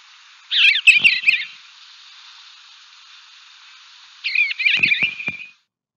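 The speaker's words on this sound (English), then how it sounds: "they say, dude, dude? And then you kind of hear this kind of warbling sound as well." Two short bursts of warbling, chirping bird calls in a backyard, separated by a pause, each clear and fairly close against a quiet background.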